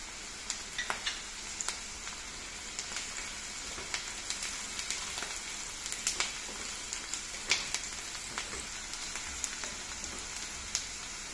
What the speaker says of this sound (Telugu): చూశారు కదా తాలింపు చిటపటలాడుతూ ఎలా వేగుతుందో